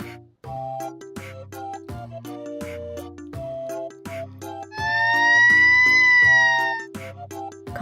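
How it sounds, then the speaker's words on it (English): A toy-style fire truck siren wails loud and steady for about two seconds, rising above a bouncy children's music backing. "Fire truck."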